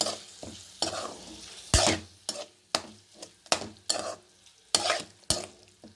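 A utensil scrapes and stirs egg and garlic in a sizzling pan on low heat, with repeated sharp strokes about every half second over a soft frying hiss.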